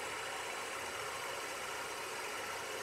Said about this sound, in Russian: через 20 секунд работы мотор постепенно начинает выходить на постоянные обороты